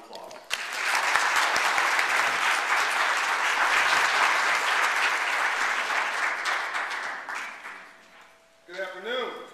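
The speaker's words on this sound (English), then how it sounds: "could you please give John Bryant a round of applause?" An audience gives a long round of applause for John Hope Bryant at a financial literacy event, dense and steady for about eight seconds before fading, with a voice starting to speak near the end.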